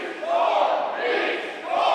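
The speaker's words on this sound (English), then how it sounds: "you hear the crowd split firmly down the middle between Blaine Meeks and Thor Theriot" A wrestling crowd at an NWL show chants loudly in rhythmic, alternating swells, the arena split between two sides calling for rival wrestlers Thor Theriot and Blaine Meeks, with a full roar throughout.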